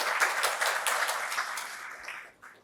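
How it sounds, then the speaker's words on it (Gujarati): An audience applauds with steady, dense clapping to welcome a speaker at a Gujarati lecture on the saint Mekan of Kutch, the sound sustained before fading out near the end. "એમનું અને આપ સૌનું જોરદાર તાળીઓથી આપણે સ્વાગત કરીશું."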